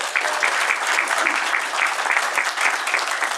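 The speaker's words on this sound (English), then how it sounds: "But again, big round of applause for Wines and Chris." A crowd at a furry convention's closing ceremony claps in a steady, dense round of applause that holds evenly from start to finish, with no voices standing out.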